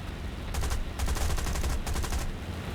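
Machine guns firing on a Boomerang Mk I fighter in the aerial combat game War Thunder, with several loud rattling bursts separated by short pauses over steady engine drone.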